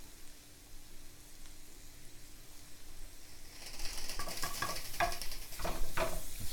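Asian-flavored mushrooms sauté in a hot pan, a soft sizzle that grows louder and busier midway, with utensil scrapes and stirring clatter near the end.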